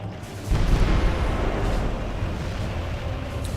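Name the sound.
explosions in a video game battle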